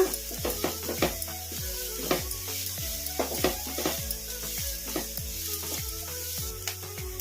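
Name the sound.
stirring chopped capsicum frying in a pan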